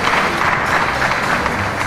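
Audience applause at a televised awards-style ceremony, a dense, steady wash of many hands clapping that continues at an even level throughout, with no talk over it.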